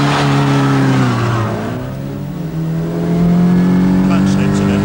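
Early 1990s car driven hard along a narrow road, its engine droning and rising in pitch close up, with a voice talking over it.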